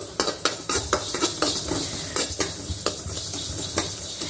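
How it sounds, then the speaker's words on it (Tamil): Sesame seeds roast in a pan over a medium flame for sweet sesame modak, crackling with quick, irregular pops and clicks over a continuous sizzle, close and fairly soft, with no voices. "இப்போவே பாருங்கள், பொரியிற சவுண்டு கேட்குது பாருங்கள்."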